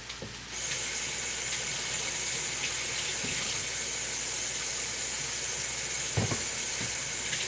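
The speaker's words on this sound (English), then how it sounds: "I'm going to give my hands a quick rinse" Water pours steadily from a kitchen tap as hands are rinsed beneath it, a constant close hiss with a few faint splashes and a soft knock near the end.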